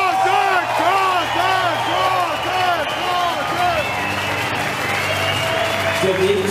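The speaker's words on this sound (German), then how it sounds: "Und trotzdem nochmal ein dicker Applaus für unsere Patzeltorte." An arena crowd at a professional boxing fight applauds, cheering voices rising in rhythmic chant-like calls over a dense, continuous roar of clapping and noise.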